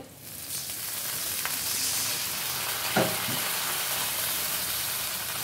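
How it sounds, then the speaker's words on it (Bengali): Onions fry in the oil left over from frying fish, a dense, even sizzle with hissing steam, broken by a couple of faint stirring taps, with no voices. "যে তেলটা বাকি ছিল, সেই বাকি তেলে পেঁয়াজ ভেজে নিচ্ছি"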